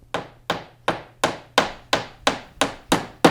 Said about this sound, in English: That was a hammer building something.